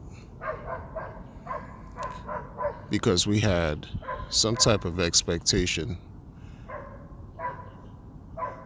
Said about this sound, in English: the dog, and the dog starts barking.